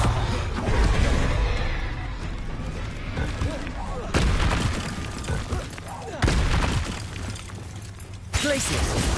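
Confringo spell blasts in Hogwarts Legacy, a series of sharp explosive bursts about every two seconds with crackling, shattering debris, mixed with game voices and combat noise.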